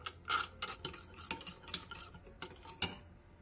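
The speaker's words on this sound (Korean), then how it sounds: "후추를 넣고 골고루 섞어 양념장을 만들어주세요." Soy sauce seasoning of soju, corn syrup, sugar, minced garlic, ginger and pepper being stirred in a bowl, with quick close clinking and scraping of a utensil against the sides, fairly quiet.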